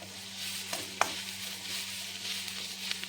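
Steady sizzle of spices frying in a hot pan as turmeric goes in, with a few light utensil scrapes and taps from stirring over the continuous crackle.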